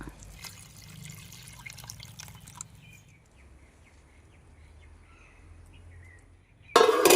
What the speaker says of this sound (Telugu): నీళ్లు పోసుకుందాం